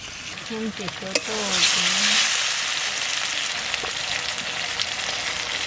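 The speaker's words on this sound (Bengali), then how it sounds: "পেঁয়াজ ভাজা হয়ে গেছে।" Onions fry in hot oil in a pan, giving a bright, steady sizzle close by that runs throughout, with a short melodic voice or tone heard near the start.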